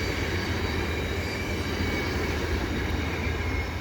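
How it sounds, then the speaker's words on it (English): A VIA Rail LRC passenger train rolls past at Dorval with a loud, sustained rumble of wheels on rails, faint wheel squeal and steady clatter, no voices. "we're watching a few trains come by"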